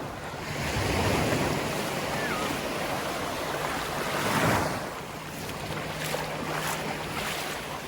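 Gentle Mediterranean surf washes continuously in shallow water off a Mallorca beach, with a breezy rush of wind buffeting the microphone and a faint engine hum in the background.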